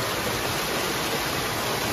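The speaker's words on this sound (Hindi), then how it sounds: "ये देखो इस तरह के झरने आपको बहुत सारे देखने को मिल जाएंगे।" Waterfalls in a forest near Dehradun give a steady, broad rushing roar of falling water, close and constant with no break or other sound.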